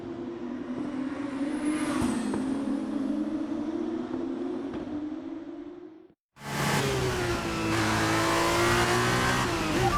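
F1 race car in F1 23 on brand new tyres, accelerating with a loud, steady high engine whine that cuts out briefly mid-way, then returns as a sharp, rising roar through the gears.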